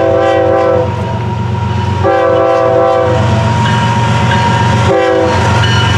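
A loud train horn blasts in repeated long bursts over the steady rumble of a passing FEC freight train led by engine 823, with a brief break between blasts.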